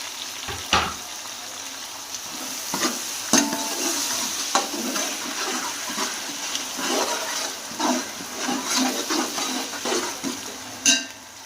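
Tomatoes and spices frying in a pot for vegetable pulao, a continuous close sizzle with intermittent clinks and scrapes of stirring, no talking.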